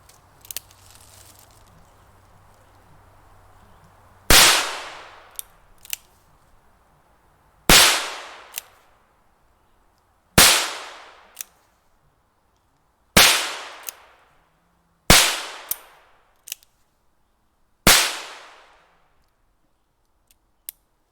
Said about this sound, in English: I figured I'd get some few shots of me shooting towards the body